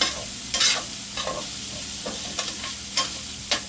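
Fried saltfish being stirred and mixed in a pan, with several soft scraping strokes at irregular intervals over a quiet, faint sizzle; no one speaks.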